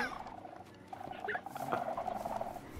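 Bird noises in the video game Minecraft, a run of gobbling, clucking calls with quick warbling notes, moderately loud and close, with a little speech faintly mixed in.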